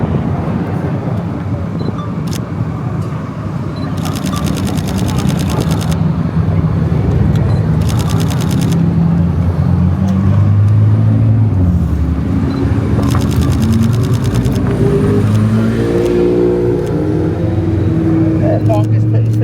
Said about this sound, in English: Here come the rest of the hypercar parade.